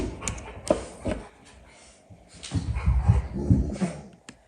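Several dogs near a horse arena whimper and yip in short high bursts, mixed with scuffling and low rumbling movement, fairly close and without speech over them.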